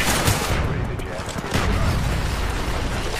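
Dense video game gunfire rattles in a continuous loud barrage of overlapping shots and blasts, with a voice talking over the battle.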